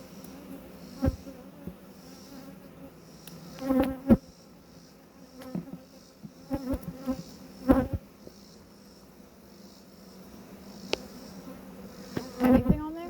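Honeybees buzz steadily around a dry hive during beekeeping, a continuous insect drone with louder passes as bees fly close by at several moments.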